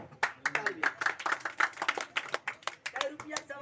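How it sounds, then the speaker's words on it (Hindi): Village crowd clapping for a travelling street performer (madari), a quick burst of close, uneven handclaps lasting a few seconds with voices mixed in. "तालियां हो गई तालियां"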